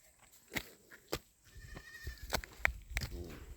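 Black goats bleating on a mountainside, several short bleats scattered across the moment, fairly close, with rustling and outdoor noise in between.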